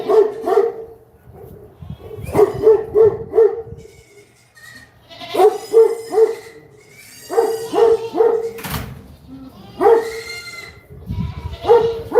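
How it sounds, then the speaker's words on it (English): Dogs on a goat farm bark at the driveway, with repeated bursts of sharp, loud barks close by separated by short pauses, some overlapping and sounding strained or howl-like. "Nothing I can do to stop them from barking if there's something for them to bark at."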